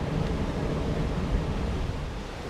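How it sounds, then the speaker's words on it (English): Sea waves wash over coastal rocks in a steady, close roar of surf, with a continuous broad rush and no voices. "wait for the right amount of water to come through"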